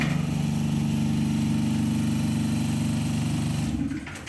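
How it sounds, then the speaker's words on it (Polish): A ceiling plastering machine in a living room runs with a loud, steady motor drone and rhythmic mechanical pulsing, then cuts out near the end. "O, maszyna się odzywa, jeszcze by pewnie chciała lać"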